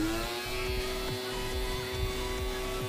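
A small motorized pore suction device drones on a nose with a steady high-pitched electric whine and buzzing hum, continuous and close, with faint bumping noises underneath.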